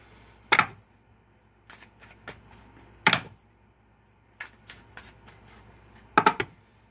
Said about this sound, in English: which is why I'm shuffling them as much as I can,